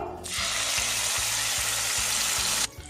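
Spice paste hits hot oil in a pan with a sudden loud, dense sizzle that holds steady and close for a couple of seconds, then cuts off abruptly, with faint rhythmic clinks underneath.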